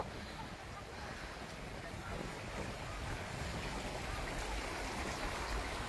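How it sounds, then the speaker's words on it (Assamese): Wind blows outdoors at Madhuri Lake near Tawang, Arunachal Pradesh: a faint, steady broadband rush that swells slightly over time, with no clear gusts and no one speaking. "বাহিৰৰ এটা বতাহৰ শব্দ হৈছে"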